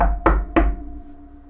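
Two sharp knocks by a bare hand on a hard surface, close and loud, spaced about a third of a second apart, then a fading hum with no voices.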